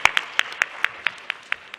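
Steady, evenly spaced claps, about nine sharp hand claps in under two seconds, for a presenter at a conference event, fairly close and with no voices over them.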